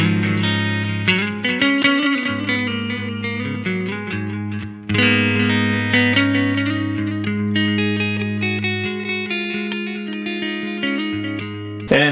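An electric guitar played through a Tech 21 PL1 Fly Rig on the clean channel with delay set to a couple of repeats, chords and melodic notes ringing out with trailing echoes over about twelve seconds.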